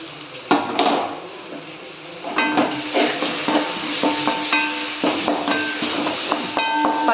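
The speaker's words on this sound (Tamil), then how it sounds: "இப்போ என்ன பண்ணுறோன்னா இஞ்சி பூண்டு போடுறோம்." Ginger and garlic fry in masala for a Sunday country-chicken curry, giving a steady sizzle with repeated scraping and clinking of a spoon against the pan throughout.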